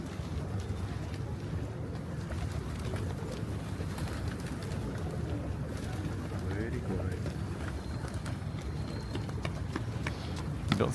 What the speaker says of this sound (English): Indeed, the pigeons.